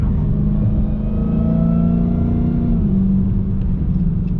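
Dodge Hellcat engine revving with a pronounced supercharger whine, a loud close rumble under a rising then falling whining tone that drops off near the end.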